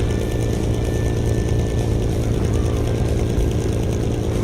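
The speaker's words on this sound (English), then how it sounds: "Oh, now I can hear the engine struggling." Propeller aircraft engine in the video game Carmine Skies, labouring as it struggles to climb over mountains: a steady, dense low drone held at constant loudness throughout, with no talk over it.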